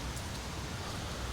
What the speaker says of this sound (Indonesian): di luar hujan teman-teman